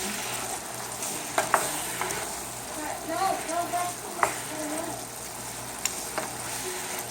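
Peas are stirred into sweet and sour chicken in a hot pan, giving a steady sizzle with a few spoon scrapes and clacks. Soft talk runs underneath.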